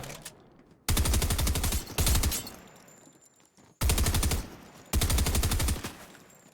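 SMG fire from the Fortnite video game comes in four loud, rapid bursts separated by short pauses, close and alone.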